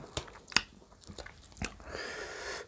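Miang leaf wraps being eaten close up, with sharp crunchy bites followed by softer wet chewing and mouth sounds.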